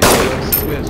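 A loud, close gunshot burst in DayZ Standalone during a bandit firefight around a stolen truck hits at the very start and then decays quickly into a ringing tail.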